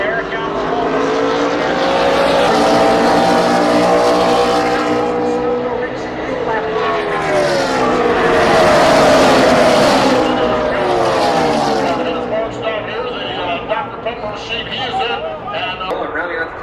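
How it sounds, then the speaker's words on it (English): NASCAR race cars roar past at Talladega during the Camping World RV Sales 500, a loud swelling pack of engines rising and fading as they pass the stands, with a crowd and announcer voice underneath. "rounding out the top 10 as they run this lap, this turn, Jeff Gordon."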